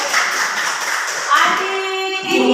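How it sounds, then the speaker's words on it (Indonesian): Loud, close clapping by a small group, probably in a classroom, with uneven bursts of claps and a voice or tonal sound rising toward the end. "Tepuk tangan untuk adik Owen."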